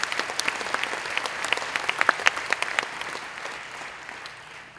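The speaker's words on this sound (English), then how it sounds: "Please give them a round of applause." Crowd at a political conference applauding young people from Parkland, Florida: steady clapping with sharp individual claps standing out, fading gradually toward the end.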